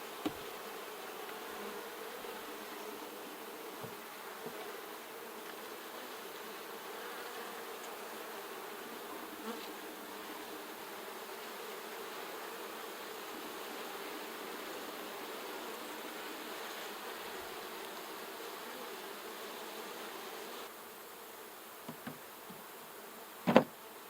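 Honey bees drone steadily at a struggling hive holding three frames of brood, a continuous close buzz with a few faint knocks and a sharp tap near the end.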